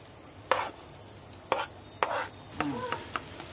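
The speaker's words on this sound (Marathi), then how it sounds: "तेल तापले आता मी कांदा घालून घेते।" Onion frying in hot oil for a prawn masala makes a soft continuous sizzle, punctuated by several sharp stirring scrapes from a spoon against the pan, close and without talk.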